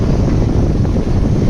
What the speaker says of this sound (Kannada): ತಣ್ಣು ಗಾಳಿ ಒಂದು ಬೀಸ್ತೈತೆ ಗೈಸ್